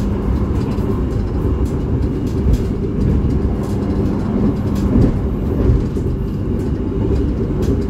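Argo Wilis express train running through Wonokromo station and overtaking a Penataran train bound for Malang, heard as a steady, loud low rumble with faint rail clatter and no talking.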